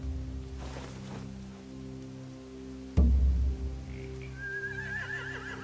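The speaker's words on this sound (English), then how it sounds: "They have horses." A horse whinnies in The Walking Dead video game, faint at first and then a clearer, high quavering neigh toward the end, set over a low steady ambient hum after a sudden thud.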